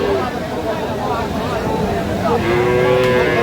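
A cow moos at a busy cattle market in Bangladesh, one long low call rising near the end over steady crowd chatter and nearby talk.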